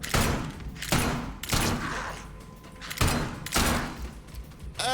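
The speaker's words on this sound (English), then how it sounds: "let's just ignore my really bad shooting" Gunshots in Atomfall ring out in five loud, separate blasts spaced about a second apart, each one trailing off into a short echo.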